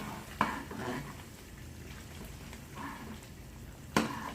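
Spoon scraping and stirring chicken korma in a metal pot, quiet with a soft sizzle, marked by two sharp clanks of utensil against the pot.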